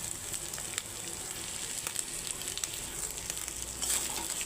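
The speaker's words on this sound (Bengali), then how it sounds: "এখন আমি ঝুড়ো ঝুড়ো করে ডিমটা ভেজে নিচ্ছি।" Eggs fry in a hot pan alongside boiled drumstick flowers, a steady, fairly quiet crackling sizzle with light patter throughout and no voices.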